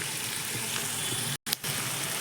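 Fritters (bora) sizzle steadily in hot oil, a dense continuous crackle and hiss with a brief cut partway through.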